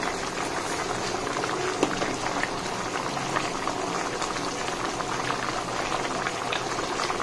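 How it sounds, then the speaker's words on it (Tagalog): Adobo made with Sprite and vinegar boils steadily in a cooking pot, a close, continuous bubbling and simmering that stays even throughout with no talking. "Lagyan na natin kumulo at okay na yan"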